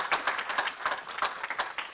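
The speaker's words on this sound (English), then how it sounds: "So that deserves a big clap for you" An audience at a children's rights event claps for a couple of seconds, producing a faint, dense patter of overlapping hand claps.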